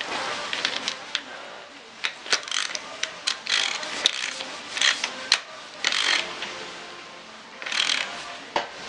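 A 24 mm socket fitting an oil pressure sensor onto a Zetec 1.25 16-valve engine, with close metallic ratchet clicks and scraping in irregular bursts, no talking.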